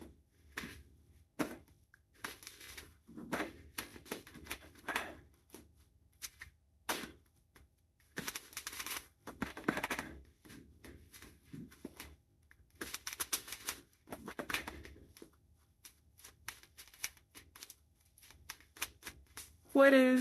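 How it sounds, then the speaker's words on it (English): Tarot cards are riffled and shuffled by hand in repeated quick bursts of soft, close flapping and clicking, separated by short pauses, with a voice speaking briefly at the very end. "I'm going to be live shuffling again. I'll be live shuffling everything."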